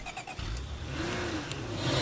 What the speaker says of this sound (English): I'm going to finish the feral off with the car.